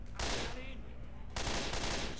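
In the video game Left 4 Dead, gunfire bursts out in two loud, dense volleys separated by a short gap, with rapid repeated shots in each burst.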